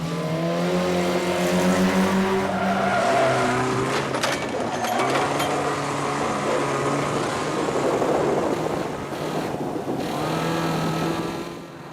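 Banger cars racing around a track, engines revving and droning loudly and continuously with shifting pitch as they accelerate, no speech.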